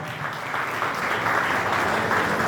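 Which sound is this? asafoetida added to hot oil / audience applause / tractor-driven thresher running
audience applause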